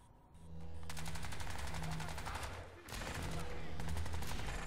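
Automatic weapon fire in the shooter game Crysis 2 during an online multiplayer match: loud, close, rapid rattling bursts, one long volley, a brief pause, then another sustained burst.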